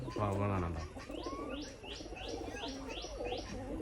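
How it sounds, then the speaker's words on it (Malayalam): A brief voice opens, then pigeons coo softly while repeated short bird calls rise in a regular series, fairly faint and close. "നമ്മളെ പ്രാവുകളാണ്"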